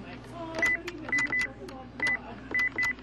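Telephone dialing tones while calling a number, a series of short beeps in quick uneven clusters, close and clear over faint background noise.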